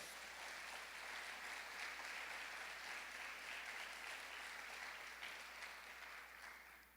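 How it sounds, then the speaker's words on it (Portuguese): Sustained applause from a church congregation during a worship service, a dense wash of many hands clapping at once, steady and slightly distant, fading toward the end over a low hum. "Dê uma forte salva de palmas."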